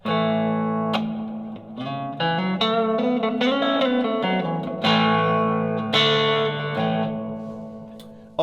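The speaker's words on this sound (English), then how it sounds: "And then you've got a reverb." Guitar played through a miniature micro amp with the built-in reverb switched on, chords and single notes ringing out with a washy lingering tail, close and fairly loud, no voices.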